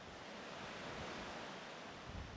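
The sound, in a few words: flowing water of the Jhelum River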